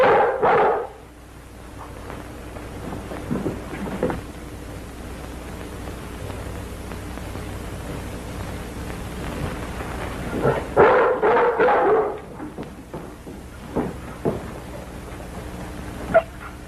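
A dog barks in bursts during a thunderstorm in a Western film, with rain hissing steadily underneath and rumbling swells rising toward the end, the barks loud at the start and again later.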